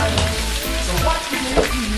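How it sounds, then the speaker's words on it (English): Tomatoes sizzle in a pan of pasta stir fry with chicken, a loud, close, continuous frying hiss and crackle with light stirring scrapes. "let it sizzle for a bit."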